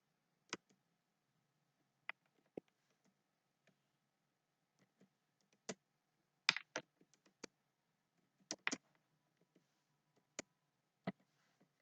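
Scattered keystrokes on a computer keyboard, typed to answer a multiple-choice quiz, come as sparse, sharp clicks with irregular gaps, some in quick pairs and small bursts, fairly close and quiet against a silent background.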